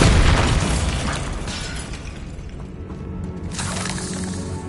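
A loud, close explosion from Confringo and Bombarda spells in the Hogwarts Legacy video game, a heavy boom with crumbling debris that fades into a rumbling tail and a second, softer burst near the end.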